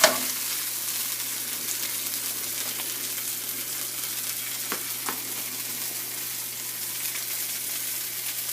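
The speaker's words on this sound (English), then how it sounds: "I'm going to saute some of this bell peppers" Bell peppers sizzle steadily in a hot pan, a soft continuous hiss with a few faint pops and scrapes of stirring.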